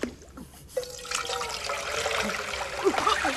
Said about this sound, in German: Schon wieder dieses verfluchte Wasser.